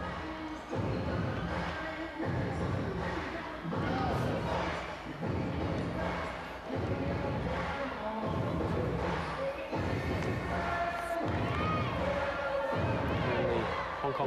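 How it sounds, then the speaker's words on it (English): A raucous crowd roars in a volleyball arena awaiting China's women's team, loud waves of shouting and cheering surging and dipping in repeated swells, with chants and whistles rising over the din. "Crowd are getting very raucous there"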